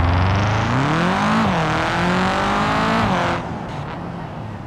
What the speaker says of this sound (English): it has the new flat 4 engine sound.